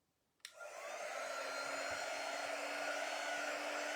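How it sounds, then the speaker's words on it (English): A heat gun switches on abruptly and blows a steady, even whoosh to dry chalk, holding at a constant moderate level with no talking. "Let me grab my heat gun, and we're going to dry it so that I don't smear it"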